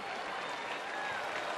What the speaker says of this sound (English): getting a terrific round of applause here by Andrews Kingston